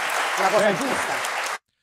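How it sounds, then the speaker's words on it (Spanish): An audience applauds Giorgia Meloni, a dense, steady burst of clapping that carries on for about a second and a half, then cuts off abruptly into silence. "Aquí le aplauden"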